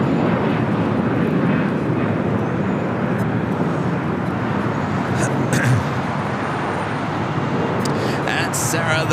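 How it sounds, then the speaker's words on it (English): A Spirit Airlines A320 arriving at LAX from Philadelphia gives a continuous broad jet roar at moderate distance, holding steady throughout with a few faint higher tones near the end. "This arrival is Spirit Airlines 267 coming in from Philly on the"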